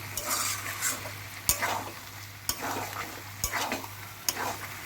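Beef tripe being stirred and fried in a pan, a steady sizzle under repeated sharp scrapes and clanks of a spoon against the pan roughly every second, close and moderately loud.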